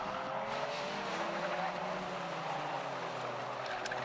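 A race car corners hard through Church Corner at the Anglesey circuit, its engine a steady, fairly close roar with no talk over it.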